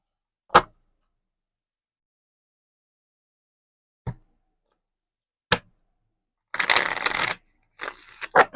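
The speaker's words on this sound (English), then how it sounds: "I'm trying to pick up these cards" Playing cards for a tarot-style reading are picked up with a few separate soft taps spaced seconds apart, then given two quick riffling shuffle bursts near the end, close by and with no talking.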